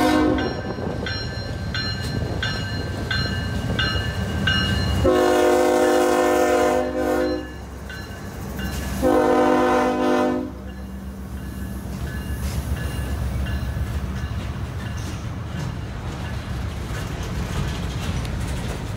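A freight train rumbles past with clattering wheels, and a loud horn blasts twice over the steady roar.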